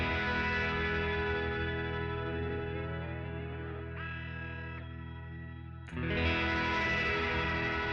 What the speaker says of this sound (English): for just a shimmery reverb, you can go an octave up here